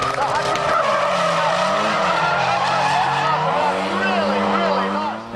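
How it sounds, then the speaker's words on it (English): A drift car spins and skids through a tight twisting corner in a drift competition, with loud sustained tire squeal over a roaring engine whose pitch swings up and down through the slide. "Really working hard down through the turbo twister, spinning it right back out on the outside"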